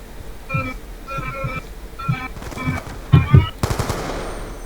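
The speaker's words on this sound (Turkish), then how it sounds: "Dört mermi sıktım." Rapid bursts of automatic gunfire from the video game Black Ops 2, several short volleys in quick succession with a louder pair of shots near the end, heard alone without talk.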